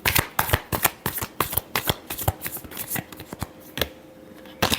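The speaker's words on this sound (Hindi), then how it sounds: "last shuffle" Tarot cards are shuffled in quick, crisp riffling bursts, each a sharp papery flutter with brief pauses between, close and clear with no talk.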